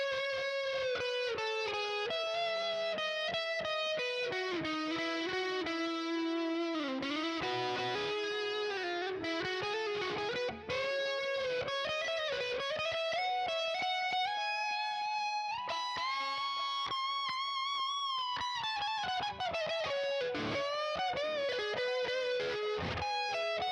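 A sustained, distorted electric guitar plays a guitar solo over a live loop, a continuous melodic solo with bends and fast runs, loud and steady throughout with no voices.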